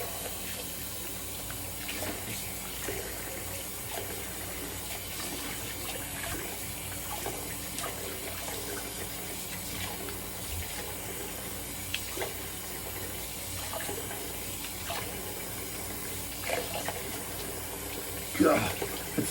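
Cold tap water running into a sink for a rinse during a wet shave, a steady soft stream near the microphone, with someone talking over it and a brief splash near the end.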